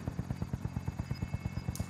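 A helicopter in Warzone sounds close and loud, its rotor beating in a fast, even thump that holds throughout.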